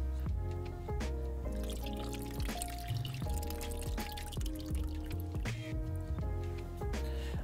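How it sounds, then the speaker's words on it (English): A can of evaporated milk poured into water to make creamy carp bait, giving continuous wet dripping and splashing with squishy liquid sounds, close and steady throughout, with no talk. "so that's the can of the evaporated milk gone in"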